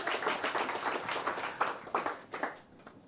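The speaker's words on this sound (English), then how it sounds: "It is good if you clap so that you encourage them to come on stage." A conference audience clapping to welcome a chief executive onto the stage, a dense patter of many hands that swells and then thins toward the end, at moderate level.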